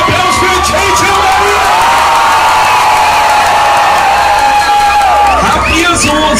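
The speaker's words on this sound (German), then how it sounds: "Wo ist der Applaus für JJ und Alina?" A large event crowd roars with cheering, whoops and shouts, loud and sustained, with some applause mixed into the din.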